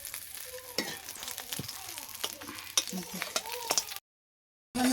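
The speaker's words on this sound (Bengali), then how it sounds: "এইভাবে আমি ভালোভাবে ভেজে দেবো" Lata fish frying in hot oil in a pan, a steady crackling sizzle broken by repeated stirring scrapes and clinks, close up, before a brief silent gap near the end.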